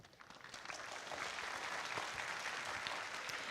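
Audience applause in a lecture hall at National Taiwan University following a talk by Prof. Morten Meldal, a dense, steady wash of clapping that swells in the first second and holds evenly throughout.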